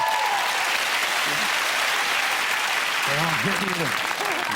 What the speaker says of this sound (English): Our friends, a round of applause.